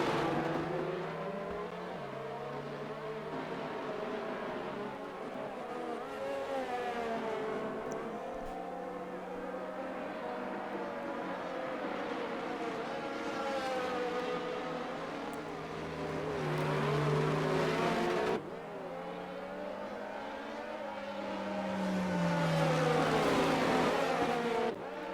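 Race cars in an F1 video game at the Portugal circuit run in a pack behind the safety car, a steady droning engine whine that rises and falls with gear changes throughout, moderately loud with no talking.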